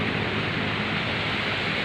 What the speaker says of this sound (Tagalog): lakas-lakas ding alon.